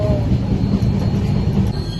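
Inside a train travelling from Secunderabad to Jammu Tawi, a loud, steady rumble of wheels on the rails fills the carriage without a break.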